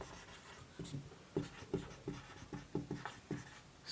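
Chalk taps and scratches on a board during a physics lesson, a quiet run of short, irregular strokes close by.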